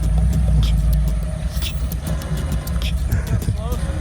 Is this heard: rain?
no